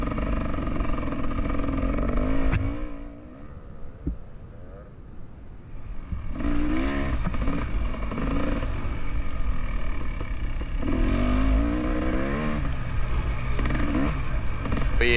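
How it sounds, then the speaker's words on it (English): Motocross-style KTM dirt bike on sandy ground, electric-started after a drop, its engine revving loudly up close with throttle swells and a brief dip before climbing again, with some talk underneath. "good old KTM, just the magic button, fires right back up"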